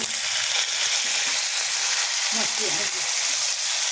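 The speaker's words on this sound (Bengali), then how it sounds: "কয়েকটা কাঁচামরিচ ফালি করে এইভাবে দিয়ে ভেজে নিলাম" Sliced green chilies frying in hot oil, a continuous close sizzle with small bursts of crackle, and a brief voice-like murmur partway through.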